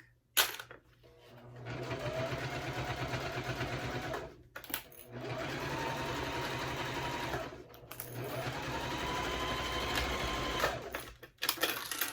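Up close, a sewing machine back stitches through thick bag fabric with reduced presser-foot pressure, running in three sustained bursts of rapid clattering separated by short pauses.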